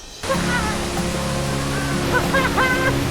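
A 120-metre waterfall in Indonesia roars up close as a broad, constant rushing wash that kicks in suddenly, with a voice calling out faintly over it near the end.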